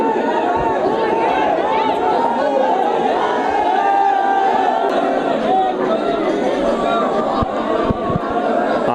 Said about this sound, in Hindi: आइए आपको दिखाते हैं किस कदर भक्तों की भीड़ उमड़ रही है झोड़ा धाम जिला नागौर में।